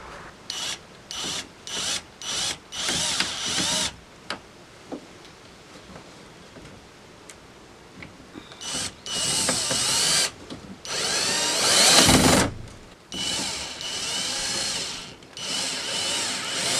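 A power drill drives small screws into overhead cabinets fitted in a van, with short bursts of whirring and ratcheting repeated in quick succession, a quiet pause, then longer, louder runs up close.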